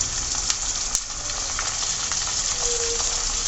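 Ginger, garlic and spices for beef bhuna fry in oil with a loud, even sizzle throughout. There are a couple of brief sharp clicks and faint stirring, and no voice.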